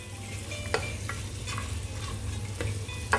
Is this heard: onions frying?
yes